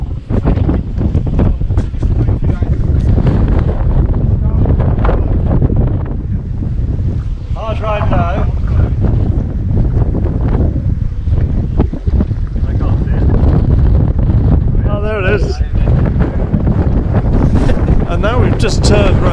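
Loud, constant wind roar of about 45 mph buffets the microphone on open water aboard a large wooden electric boat, with a low engine-like rumble underneath and brief faint voices.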